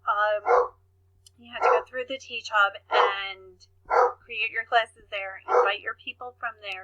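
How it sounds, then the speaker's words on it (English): A dog barks repeatedly in short bursts in the background while a person speaks steadily over it. "Sorry about the barking dog."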